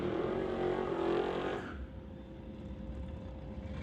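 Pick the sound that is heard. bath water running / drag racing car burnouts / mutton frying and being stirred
drag racing car burnouts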